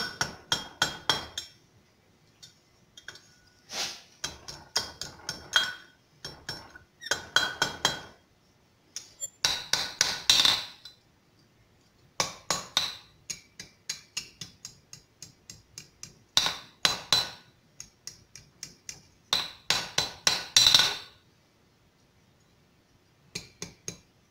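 Copper bar being hammered and curled over the horn of an anvil while forging a copper cross: bursts of ringing, metallic blows in quick clusters, separated by short pauses, close and clear with no talk.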